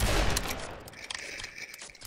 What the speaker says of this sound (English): Yeah, start shooting.